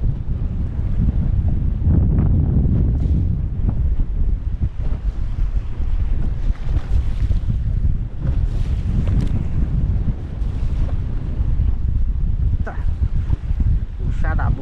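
Strong wind buffets the microphone aboard a small fishing boat 13 km out at sea, a steady loud roar with low rumbling and splashing water throughout, the boat rocking in rough conditions.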